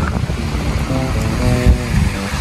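Ocean surf washing onto the shore at Sariaya beach in Quezon, a steady broadband roar of breaking waves with wind, close and continuous throughout with no talking.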